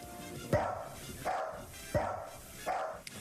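A dog barks four times in a steady, evenly spaced rhythm, each bark loud and close with a short ringing tail, heard over a faint background with no talking.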